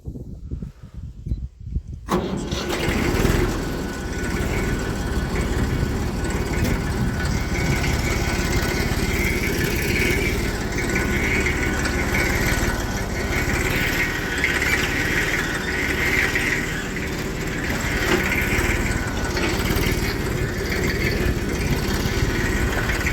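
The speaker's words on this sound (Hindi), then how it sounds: "अब चलते हैं फटाफट, ट्रैक्टर स्टार्ट कर लेते हैं।" A loud tractor engine cranks and catches in freezing winter cold, then runs at a steady, rumbling idle close by for a long stretch, with no talking.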